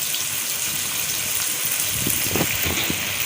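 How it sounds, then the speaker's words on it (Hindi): Water poured into a pan of cooking masala with turmeric for a gobi matar curry, a steady broadband wash with a few brief splashy bursts toward the end, close and moderately loud, no voices. "थोड़ा सा पानी डाल देंगे।"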